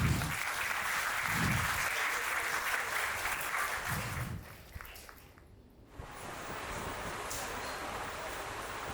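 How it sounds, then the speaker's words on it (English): Audience applauding at a school Ganesh Chaturthi function in Jodhpur, a steady clatter of many hands that thins and dips toward the middle, then resumes more softly to the end. "Please give them a big round of applause."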